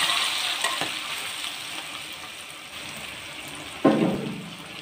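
Fried onions added to a pulao cooking in a pot: a steady sizzle with light stirring scrapes, then a sudden louder burst of hissing near the end as they go in, close and without speech.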